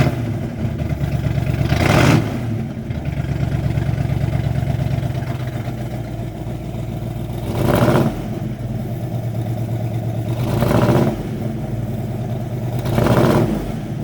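A 1969 Chevrolet Chevelle SS idling loudly with its exhaust turndowns open, a deep, lumpy rumble broken by four sharp revs spaced a few seconds apart, close and without talk.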